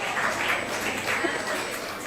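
Audience clapping steadily for a champion award winner at a UCMAS Kerala state-level competition award and graduation ceremony; a dense, even wash of applause that stays moderately faint, with a murmur of voices mixed in.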